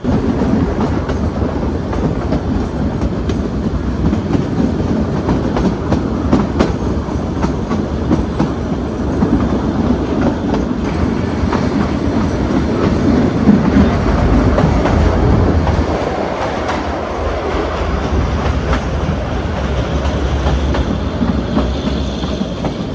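Kangra Valley toy train running along its narrow-gauge railway in India, a steady close rumble with rhythmic clickety-clack of wheels over rail joints, continuous and loud throughout with no talking.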